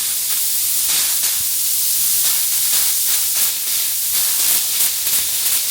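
Propane hisses in a steady, loud, unbroken rush from the valve of a Mr Heater Fuel Keg tank, with no voices over it.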